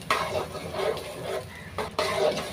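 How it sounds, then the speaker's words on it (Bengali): Spices, onion and garlic are stir-fried over a medium gas flame in a pan for chicken roast, giving a close, soft sizzle with scraping stirring strokes that swell and recede in uneven bursts. "এবারে সব মশলাগুলোকে আমি ভালো করে কষিয়ে নেব।"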